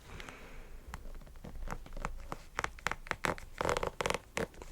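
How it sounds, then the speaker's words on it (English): A zipper on a shoe being pulled open for ASMR, heard close up as a series of uneven, scratchy rasping bursts that grow louder and more frequent toward the end. "Oh, let's do the zipper."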